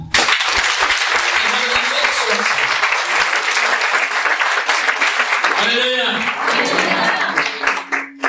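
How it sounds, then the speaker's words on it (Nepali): A church congregation's audience bursts into sustained applause, dense many-handed clapping filling the space, with voices audible alongside and a brief lull near the end. "अन्त ताली बजाइदिनु"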